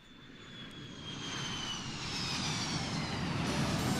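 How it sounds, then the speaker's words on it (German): A jet airplane arrives at Narita airport in a Japanese school-life game, its engine roar swelling steadily louder from a distant rumble into a broad, loud whoosh with no talk. "Wir hören ein Flugzeug."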